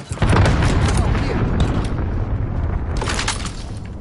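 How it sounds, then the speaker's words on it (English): A cruise missile strike in Call of Duty: Modern Warfare lands with a loud, close boom, then a long rumbling tail and a second burst of crackling blast noise near the end. "Cruise missile incoming."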